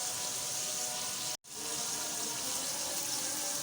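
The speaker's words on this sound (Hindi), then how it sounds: "तो सब पानी चावल ऐड कर देते हैं और साथ पानी ऐड कर देते हैं।" Water poured into a pot of soaked rice, about 600 grams for 300 grams of rice, a steady loud gushing stream that breaks off briefly and then resumes.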